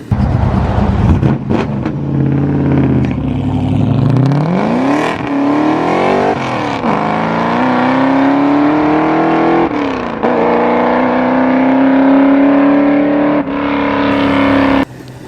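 A loud classic car engine of 600 brake horsepower roars and revs up, drops back, then climbs and holds a steady high drone, close and powerful throughout, at a cars and coffee meet.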